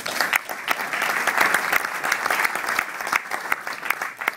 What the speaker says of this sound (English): Let's hear it for Tony